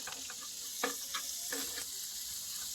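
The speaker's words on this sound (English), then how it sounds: "So now I'm going to add in my ginger and garlic." Ginger and garlic hit a hot pot for a spicy meatball dish, giving a soft, steady sizzle with a few brief stirring scrapes and crackles and no talk.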